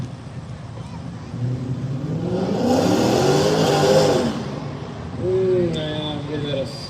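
A Dodge Charger's engine revs at an arm-drop drag race, rising to a loud swelling roar, then easing before a second shorter rev, with crowd and voices mixed underneath.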